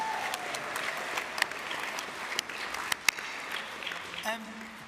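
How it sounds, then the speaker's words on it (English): At a brass band regional championship results ceremony, the audience claps for the band percussionists, a faint, distant wash of applause with a few sharper claps standing out, and a voice briefly heard near the end. "So let's give the percussionists a big round of applause."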